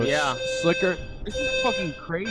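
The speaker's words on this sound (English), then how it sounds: "that's my fire alarm" A home fire alarm goes off in a room as a steady high-pitched tone runs under loud, lively talk from several people.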